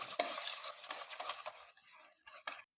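Mashed banana with lemon juice stirred in a bowl, quick close wet squelching and scraping strokes in an uneven rhythm, faint, ending abruptly in silence.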